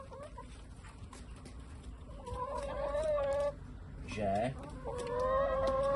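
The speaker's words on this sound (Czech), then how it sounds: "aby se tam nedostaly slepice" Hens inside a garden polytunnel cluck in several close, bright bursts, with a steady low background. A person says a single brief word partway through.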